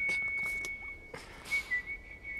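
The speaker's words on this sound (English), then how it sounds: "That whistle was fire." A whistled melody in a music video, a steady clear high tone held across the clip over a soft musical backing, with brief louder swells near the end.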